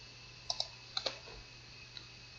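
A few sharp computer mouse clicks, two quick pairs close together then a single faint click, near and quiet over a low steady electrical hum while filling in a teacher's ACR self-declaration form online.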